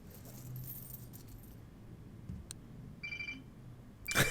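Keys jangling during a search for lost keys in the video game Life is Strange, with a few short metallic clinks and rattles, soft and close, ending in a louder jangle.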